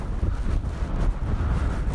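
Strong wind buffets the microphone on the Dorset coast at Durdle, a steady low roar with gusty swells filling the whole stretch, loud and close with no voices.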